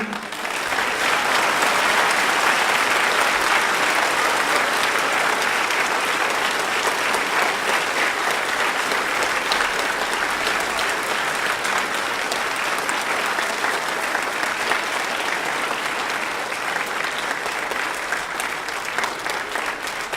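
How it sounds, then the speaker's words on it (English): An audience at a sheriff's office Veterans Day program applauds Deputy Barker, with dense, steady clapping sustained for about twenty seconds and little letting up. "How about one more round of applause for Deputy Barker?"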